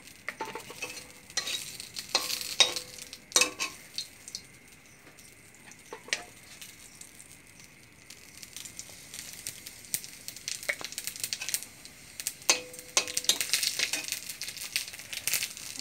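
Cumin seeds frying in hot oil with chilies and bay leaves in a home kitchen, a soft crackling sizzle with bursts of scraping stirs, close but fairly quiet, no voices.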